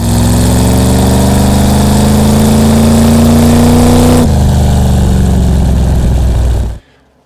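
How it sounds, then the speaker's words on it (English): A street legal sprint car with a dual exhaust setup revs loud and close, holding a steady high drone before dropping to a lower tone and cutting off abruptly near the end. "Here's a fun example of a dual exhaust setup I did a couple years ago on this street legal sprint car."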